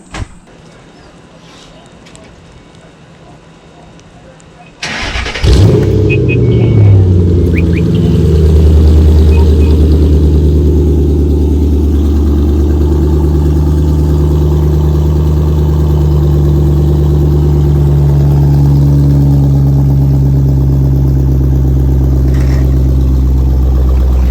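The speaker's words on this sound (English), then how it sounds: "Now it's cold start time. Get to hear this exhaust for the first time." Ford Mustang with an aftermarket exhaust on a cold start: a quiet pause, then the engine cranks and fires with a sudden loud bark before settling into a deep, steady, bassy idle that continues loud and close.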